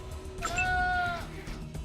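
A goat bleats once in the video game Wasteland 2, a drawn-out wavering cry that rises clear and loud above a low background rumble of game ambience.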